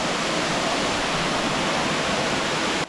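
The 80-meter Choma Falls in Morogoro roars as a steady, dense wash of falling water, loud and unbroken from start to finish.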